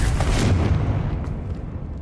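A Confringo blasting spell bursts in Hogwarts Legacy, a short, heavy explosive boom with a rumbling low end that fades away over a couple of seconds.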